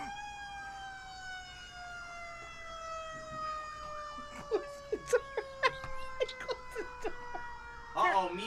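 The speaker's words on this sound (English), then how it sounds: "Turn off the siren." A siren wails steadily through the whole stretch, its tone sliding slowly lower in pitch, with a series of sharp clicks and taps joining in toward the end.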